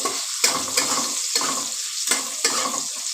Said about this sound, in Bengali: এবার এটাকে ভালো করে ভেজে নেব খানিক্ষণ ভেজে নিয়ে তারপরে দেব গোলমরিচের গুঁড়ো